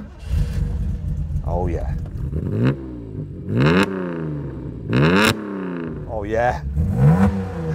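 A Toyota 2000 GT's Yamaha-tuned two-litre straight-six revs repeatedly, each blip rising sharply then falling back to a rumbling idle, close and loud, while a man makes brief remarks between revs.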